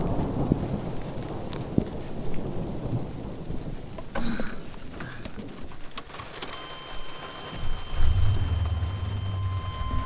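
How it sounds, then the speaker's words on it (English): Thunder rumbles in the distance over steady rain at a mountain lake, with birds calling and a pigeon cooing faintly in the background. "I don't want to be caught up here in a storm."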